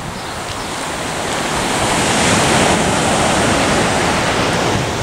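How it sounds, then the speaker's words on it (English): Ocean surf rolls onto a beach of powdery white sand near Cabo, giving a loud, continuous wash of breaking waves that swells in the middle with some wind buffeting the microphone. "You got this awesome beach."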